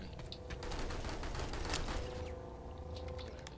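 Rapid gunfire from a new gun in Planetside 2 rattles off in a quick, steady stream, fairly quiet and a little distant, then thins out toward the end.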